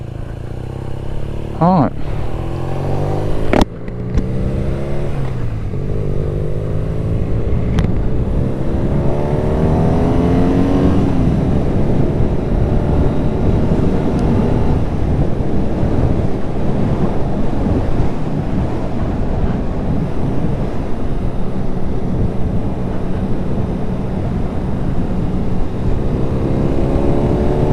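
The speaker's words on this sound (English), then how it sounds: "let's get back on the bike and go for another blast for an hour or so" BMW R nineT motorcycle riding on a test ride, engine pitch climbing through the gears then holding a steady drone under heavy wind rush, with a brief spoken word near the start.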